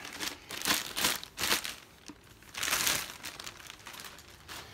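Thin plastic wrapping around a RODECaster Pro crinkles and rustles in several close bursts as the unit is unwrapped, with quieter gaps between the handling sounds.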